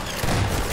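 A shotgun firing in Half-Life 2, one short heavy boom that lands partway through and fades into a brief rumbling tail.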